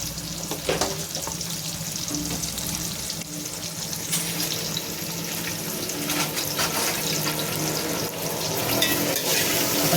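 Ingredients sauté in a pan with a dense, steady sizzle that grows slightly louder toward the end, accompanied by intermittent stirring scrapes and clinks; no speech is heard.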